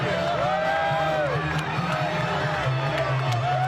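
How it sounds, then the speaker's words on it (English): Sustained roar of a boxing arena crowd at Mayweather vs. De la Hoya, a loud unbroken wash of cheering with a few sharper shouts poking through. "Look at the crowd, folks. Nothing but pure electricity."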